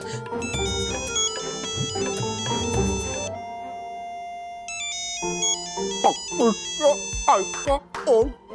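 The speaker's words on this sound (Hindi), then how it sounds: "आदित्य भाई का फोन" A mobile phone plays a melodic electronic ringtone in a home kitchen, bright repeating tones looping for several seconds, with voices and shouting breaking in over the later part.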